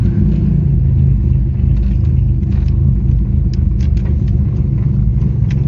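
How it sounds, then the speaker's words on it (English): Very loud car engine rumbling steadily as the vehicle pulls away through a suburban street, a deep continuous roar close by with no talking. "It's an extremely loud vehicle to be driving in a suburban area like this."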